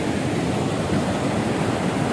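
River water rushes below a bridge on the Kedarnath trek, a loud, unbroken broadband roar that fills the whole moment at close range with no voices.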